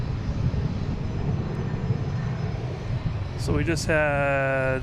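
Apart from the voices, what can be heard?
Copa airliner taking off at Boston Logan airport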